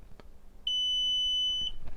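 A LetPot Senior hydroponic growing system gives one clear, steady electronic beep lasting about a second after its pump Wi-Fi button is pressed, standing out alone over a quiet room background.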